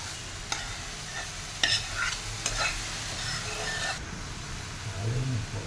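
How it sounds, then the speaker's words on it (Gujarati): Vegetables for pava bateta (poha with potatoes) being stirred in a hot pan, steady frying sizzle with sharp spoon scrapes and clinks against the pan at irregular intervals. "વચ્ચે આપણે આ શાકને વ્યવસ્થિત રીતે મિક્સ કરતા રહીશું, હલાવશું જેથી બેસી ન જાય"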